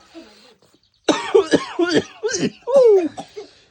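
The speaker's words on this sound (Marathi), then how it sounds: "खोकला" A few sharp, raspy coughs in a quick cluster, close and fairly loud, with a throaty, laugh-like edge after a faint murmur.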